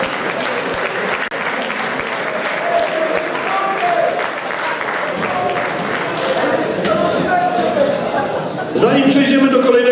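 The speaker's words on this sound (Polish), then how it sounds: "Jeszcze raz brawa." Sustained applause from an audience at a football team's player presentation, dense clapping throughout at steady loudness, with a voice coming through near the end.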